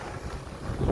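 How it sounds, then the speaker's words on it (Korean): Strong, bitter winter wind gusting during an extreme Arctic cold snap on a snowy street, a broad steady rush with rumbling buffeting against the microphone that swells louder toward the end. "바람이 또 세차입니다. 이거 바람 소리 들릴 것 같은데요"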